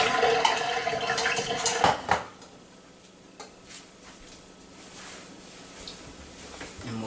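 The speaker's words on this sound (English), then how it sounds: "I'm just going to drain the water." Hot water from a pot of boiled eggs pours out into a sink in a home kitchen. It starts as a loud rushing splash and then fades to a soft trickle and drip. No one speaks.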